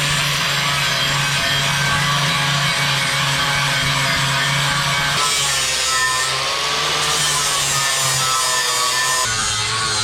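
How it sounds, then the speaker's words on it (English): A scaled steel gas tank is scuff sanded by hand with steady, continuous abrasive rubbing. The loud, close scraping carries on for the whole stretch with only slight changes in stroke. "now we scuff sand"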